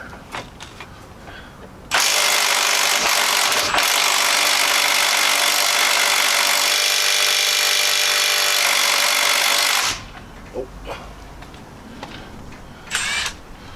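An impact wrench hammers at a stubborn hub bearing bolt on a GM Suburban, Tahoe, Yukon, Escalade or Silverado, failing to break it loose: one loud, continuous rattling burst lasting about eight seconds, close up, with no talk over it.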